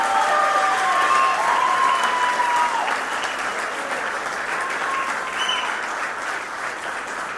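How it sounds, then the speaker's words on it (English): A large indoor audience gives a sustained round of applause, dense and steady throughout, tapering only slightly toward the end, with no talk over it. "we owe a big round of applause to Carrasco and that vision"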